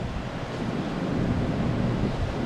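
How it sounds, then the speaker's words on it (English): Large ocean waves roll onto the shore at Cabo San Lucas ahead of Hurricane Olaf, heard as a dense, continuous surf roar mixed with wind buffeting the microphone. "These are some pretty good sized waves working their way in, and the storm hasn't even got here yet."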